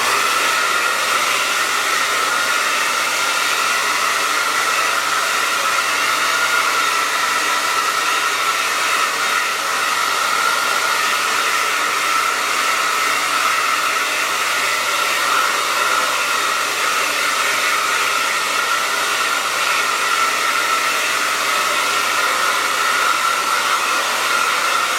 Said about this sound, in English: So I will blow dry it on high, but it never really gets hot.